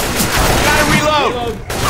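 Gunfire from the video game Left 4 Dead 2 rattles loudly in rapid bursts, mixed with game sounds and players talking over the shots.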